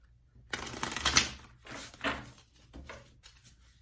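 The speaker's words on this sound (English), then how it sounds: "I suck at shuffling cards." Tarot cards being shuffled by hand, a few quick riffling bursts of papery rustle and patter, close and fairly quiet, with brief pauses between.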